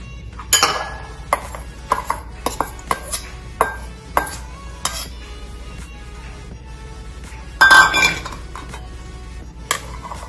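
Chopped tomatoes, cucumbers, mangoes and peppers tipped into a big bowl for mango salsa, giving a string of sharp clinks and clatters spaced through the stretch, with one longer rattling burst near the end over a quiet background.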